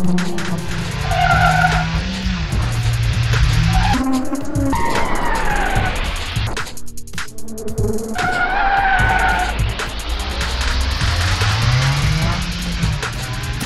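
Tires screech and skid while a car drifts sideways in the mobile racing game Bravo Drift, with long squeals over a revving engine and a brief drop near the middle before the skidding resumes, loud and close.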